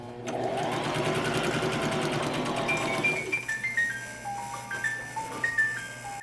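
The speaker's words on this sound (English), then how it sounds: "the side backs and backs are sewn together next, followed by the back seam" A sewing machine runs steadily for about three seconds, stitching the bodice seams of an 1870s Victorian gown, then stops as fabric is handled and light tonal beeps and tones play.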